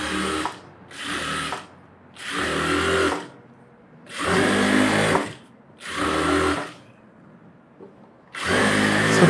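A sewing machine stitches a fancy model blouse in about six loud, close bursts of rapid whirring, each a second or so long, separated by short quiet gaps.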